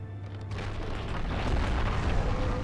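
A dragon breathes fire on a Gondor battle tower in The Battle for Middle-earth, a dense, roaring whoosh that swells and stays steady and loud throughout, with no talk over it.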